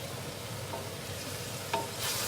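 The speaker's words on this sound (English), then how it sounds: "Now cook the peppers, onion, garlic" Peppers, onion and garlic sauté quietly in a pan, a faint low sizzle with a soft stirring scrape near the end, no talking.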